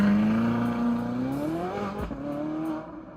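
A Ferrari 458 Italia engine heard close and loud, its pitch climbing steadily through a smooth rev and easing briefly before rising again, with no talk.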